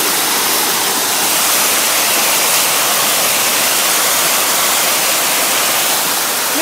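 River flowing during a mountain day hike: a loud, constant rushing of water, close by and unbroken, with no voices.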